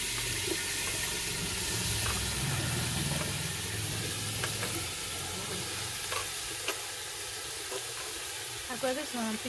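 Fish sizzles steadily in hot oil for a village-style fish curry, with a close, bright frying hiss and scattered crackles and pops throughout, no talking.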